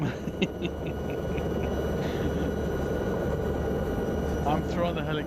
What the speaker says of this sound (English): I'm throwing the helicopter around too much.